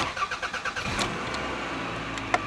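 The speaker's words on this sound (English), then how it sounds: "It's time to start this thing up." A 2000 Toyota Camry with a bad thermostat gasket, left unrun for about six days, cranks with a rapid rhythmic chatter and then catches into a steady idle, heard faintly from a short distance.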